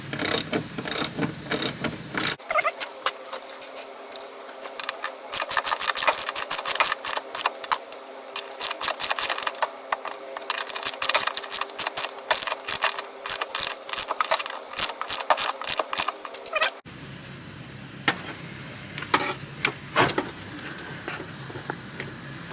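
Rapid ratchet clicks tighten 5/16 bolts on a firewall reinforcement bracket, a dense run of sharp mechanical ticks for about fourteen seconds, then sparser clicks near the end.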